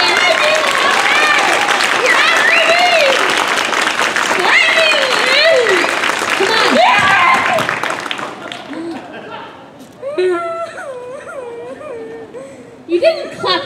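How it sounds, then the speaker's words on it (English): Audience at a live stage show applauding with raised, excited voices over the claps, loud for about eight seconds before the clapping dies away and a single wavering, whimpering voice carries on alone. "You didn't clap hard enough."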